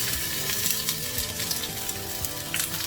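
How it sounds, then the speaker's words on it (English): Onions and rosemary sauteing in a hot pan, a steady close sizzle and crackle with faint stirring, continuous and fairly loud, with no voices. "I like to saute my vegetables, in which we got some onions and some rosemary here"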